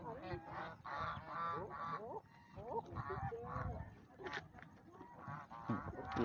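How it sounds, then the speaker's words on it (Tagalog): Several geese honk repeatedly close by, their calls overlapping in a noisy, rhythmic chorus. "Parang gansa ata yun, hindi man pato eh,"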